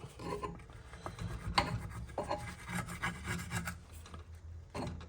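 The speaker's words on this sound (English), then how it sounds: "I scraped whatever I could off with the scraper" A hand scraper rasps repeatedly across the old gasket residue on a Nissan 350Z oil pan, giving close, irregular strokes of gritty scraping with short pauses, alone and without speech.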